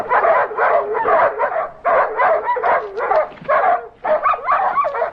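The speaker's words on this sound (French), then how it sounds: "Et ils reniflent, et ils grattent, et ils jappent." Several dogs sniffing and scratching around a sealed cave, barking and yapping in rapid, overlapping bursts with whimpering yips, loud and close, almost continuous across the clip.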